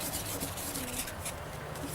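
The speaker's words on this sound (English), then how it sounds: "now that we got a new piece of sandpaper, use a nice circular motion on it" Close, steady rubbing of fresh sandpaper worked in circular motions over a plastic car headlight lens, a soft continuous scratchy hiss, faint and unbroken, with no talk.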